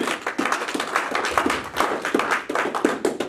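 Church congregation clapping in a rhythmic, steady beat, sharp repeated hand claps filling the space at a moderate level, with no talk over it.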